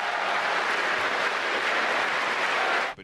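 Sustained applause from a large audience honoring Russian President Putin at the Crimea annexation ceremony, a dense steady clapping wash that fills the whole stretch before cutting off abruptly at the end.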